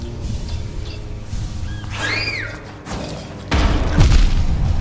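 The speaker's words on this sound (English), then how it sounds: "I dodged the explosion and everything, dude." An explosion goes off in the video game Hollow Knight, a loud low boom and thud bursting in near the end over a rumbling game soundtrack with brief chirping effects.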